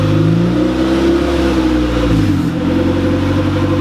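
A boosted EG engine runs just after its first start, loud and close, holding a steady idle drone whose pitch sags and settles partway through, with no voices over it.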